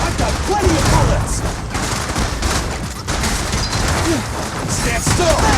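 In the action video game Zenless Zone Zero, dense, continuous gunfire and impact bursts fill the scene loudly, with character voices calling out over the rapid shooting.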